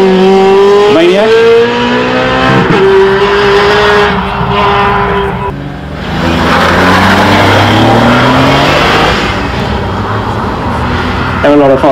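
A supercar launching and accelerating at the Heveningham Concours of Elegance, its engine rising loudly through rapid gear changes with rising and falling pitch sweeps, close and powerful, with people talking over it.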